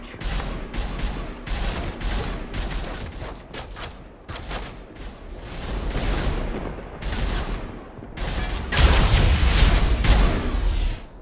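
Battle gunfire from the video game Mass Effect: dense, continuous bursts of rapid shots and cracks with booming impacts, loud and sustained throughout, swelling into a heavier barrage near the end.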